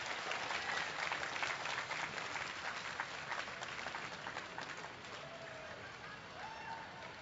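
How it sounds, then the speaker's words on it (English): Outdoors at a state fair llama costume competition, a crowd gives continuous moderate applause that slowly tapers, with faint background voices. "So a big round of applause for Caitlin Lingbeck and"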